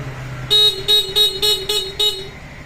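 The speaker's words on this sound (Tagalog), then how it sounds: "Stock horn." A thin, nasal stock horn on an ADV 350 motorcycle beeps six times in quick succession, close and loud, in an even rhythm.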